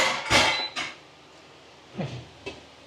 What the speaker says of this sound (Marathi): झाकण ठेवूया